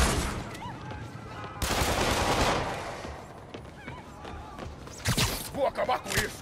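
Gunfire from gang members in Marvel's Spider-Man, sharp bursts of shots and impacts coming in loud clusters, with a quieter gap between them and shouting voices mixed in.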